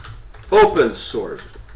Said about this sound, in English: my typing's awful